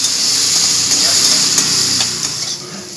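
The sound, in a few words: potatoes frying in a pan with turmeric and salt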